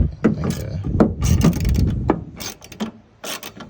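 Bolts are ratcheted and tightened while sound foam goes into a 1965 Ford Mustang, giving close mechanical clicks and knocks in irregular bursts, with some speech in between.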